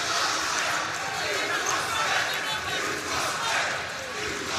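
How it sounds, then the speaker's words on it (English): Basketball fans in an arena during a Mountain West men's quarterfinal between Nevada and Colorado State give a sarcastic cheer, a broad crowd roar that swells and holds throughout. "a sarcastic cheer from the Nevada fans in attendance"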